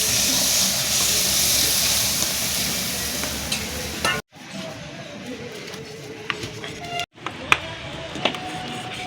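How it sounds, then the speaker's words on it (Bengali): Water poured into a hot pan of frying tilapia curry sets off a loud, hissing sizzle that runs continuously, broken by two brief cuts, with occasional scraping and clinks over the bubbling. "মাছটা হয়ে গিয়েছে, এবার জল দিলাম।"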